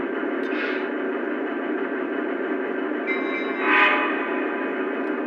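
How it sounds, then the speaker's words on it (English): In a train simulator game, a BNSF SD70MAC locomotive's whistle sounds over a steady rumbling engine, with a brief bell-like ring near the middle; mechanical and continuous, no talking. "That'll give us the whistle and bells"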